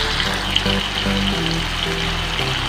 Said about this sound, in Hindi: तो जी टमाटर अच्छी तरह फ्राई हो चुके हैं